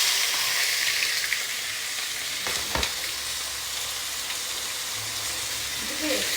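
Meat sizzles and fries steadily in a nonstick pan as it scorches and burns black, a dense, continuous hiss that stays close and even throughout.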